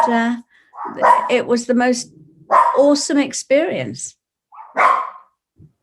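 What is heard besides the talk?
dogs barking in the background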